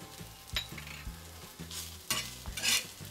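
Green chilli thecha with peanut powder and salt is stirred in a pan, a soft sizzle with repeated low scraping strokes and a few brighter clatters, quiet and close.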